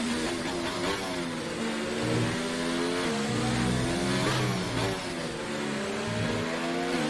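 Racing car engines in F1 2019, mid-race at the Russian Grand Prix, whine at high revs with pitch rising and falling through gear changes, and several cars sound closely bunched in a continuous, fairly loud drone.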